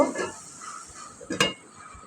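A cooking pan being covered with a lid after stirring, giving a single clear metallic clink of lid on pan near the end, preceded by softer utensil scraping in a quiet kitchen.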